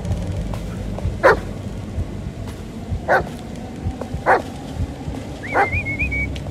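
Dog in the video game Blair Witch giving a series of short barks and whimpers, about four sharp bursts spaced a second or so apart over a low rumbling background, with a brief whistle-like whine near the end.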